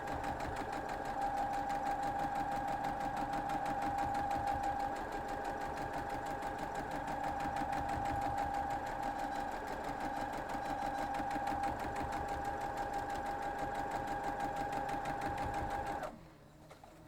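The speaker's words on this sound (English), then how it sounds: "Now we're going to grab this one and sew it." A sewing machine stitches a mitten quilt block, running steadily with a fast, even mechanical whir and hum for about sixteen seconds before stopping abruptly.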